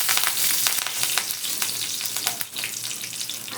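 Mustard seeds and curry leaves sizzle in hot oil for upma, a close, steady hiss broken by quick crackling pops, with no voices.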